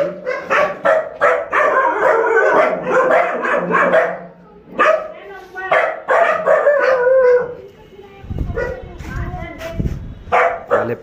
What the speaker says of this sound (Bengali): সব কুকুর।